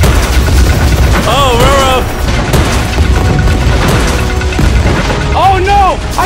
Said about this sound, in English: It just shot a billion missiles!